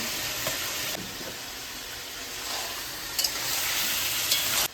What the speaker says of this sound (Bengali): এখন আবার কিছুক্ষণ এরকমভাবে কষাবো